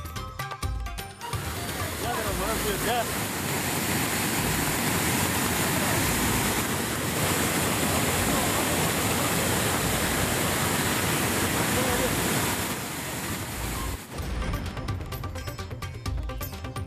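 Floodwater gushing over a low causeway on the Periyar river near Yercaud, a loud, continuous roaring rush of water that fills the scene almost without pause.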